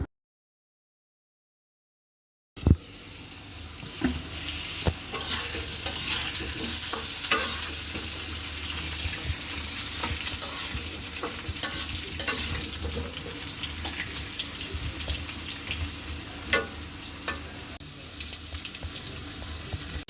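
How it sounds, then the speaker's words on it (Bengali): Potato pieces fry in oil in a pan, a steady close sizzle with scattered clinks and scraping from stirring, starting after a short silence and running on with no talk. "আমার আলুগুলো কিন্তু ভাজা হয়ে গেছে এখন তুলে নিব"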